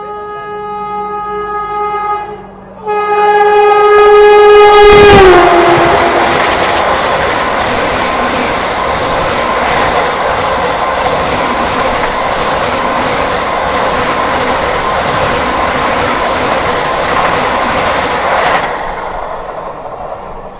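Kalindi Express train pulling into Prayagraj Junction, a loud steady rumble of wheels and carriages with a horn-like tone early on, filling the whole stretch before easing near the end.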